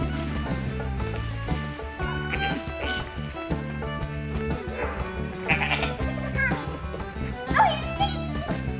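Several goats bleat in repeated short, wavering cries, close by on a small farm, mixed with a voice and other people talking among the animals.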